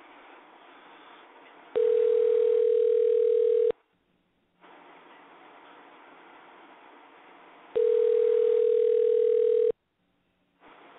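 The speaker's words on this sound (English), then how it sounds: "Hopefully I didn't screw this up by dialing it wrong, but it's ringing" Ringback tone on an outgoing telephone call: two steady ringing bursts of about two seconds each, separated by pauses, heard over a faint line hiss with no talking.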